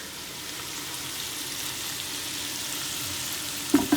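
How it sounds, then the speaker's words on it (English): Beef stew for Irish Guinness stew simmering in a hot pan, a low steady sizzling and bubbling hiss, fairly faint and continuous, with a couple of brief clunks near the end. "It's already simmering away."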